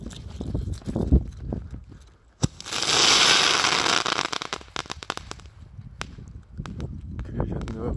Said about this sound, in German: Rakete voll Effekte, aber ich glaube ohne BKS.